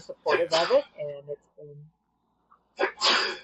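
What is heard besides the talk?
sneeze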